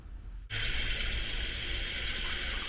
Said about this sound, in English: Then we put some water in it.